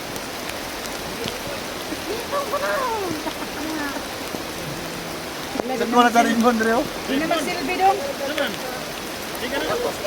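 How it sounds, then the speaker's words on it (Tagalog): Heavy rain pours steadily as a broad, hissing wash that stays loud throughout, with people talking over it in the second half. "kay kusog ang ulan"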